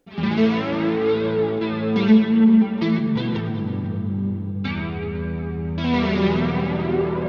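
Clean electric guitar chords with effects off and tone knob fully open ring out and sustain smoothly, a few changes in harmony, played close and fairly loud with no talking.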